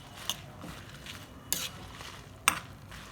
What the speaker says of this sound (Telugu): తర్వాత 12 ఎండుమిరపకాయలు వేస్తున్నాను. ఊరికే ఎగిపోతాయండి ఎండుమిర్చి, చూసుకుంటూ ఉండాలి.